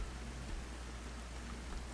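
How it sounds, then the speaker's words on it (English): Steady heavy rain falling in the survival video game Rust, a faint, even hiss that continues without a break and with no voices over it. "It rains real hard."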